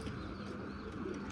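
Golden red-eyed pigeons coo softly nearby, a brief low murmuring burble with faint chirps in the background.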